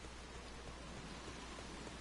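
Steady rain falls in the Drybone area of the video game Final Fantasy XIV, a soft, even hiss of drops at low volume with no other sounds.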